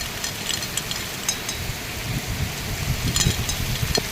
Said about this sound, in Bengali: প্রচুর বৃষ্টি নামতেছে, প্রচুর। প্রচণ্ড পানি, রাস্তা কি হয়ে গেছে।